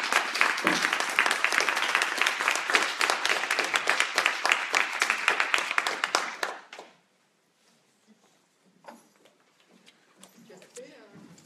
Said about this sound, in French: Donc je vous propose qu'on les applaudisse très fort.